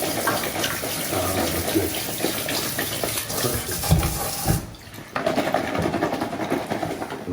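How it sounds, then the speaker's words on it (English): Tap water runs steadily into a sink as potatoes are rinsed under it, with a brief break near the end before it resumes; a voice speaks briefly over the flow. "I'm just going to rinse the potatoes off a little bit, just making sure that they're nice and clean."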